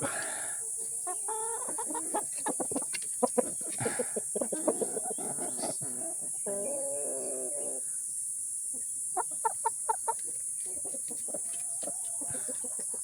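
Heritage laying chickens, Rhode Island Reds and Black Australorps, cluck and chatter steadily nearby, with scattered short calls over a constant high-pitched insect drone.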